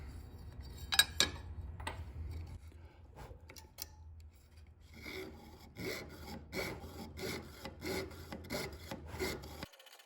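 Aluminum stock being cut with a hand saw, a few separate rasps at first and then a steady run of back-and-forth strokes in an even rhythm, fairly quiet and close with no voices.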